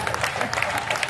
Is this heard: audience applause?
yes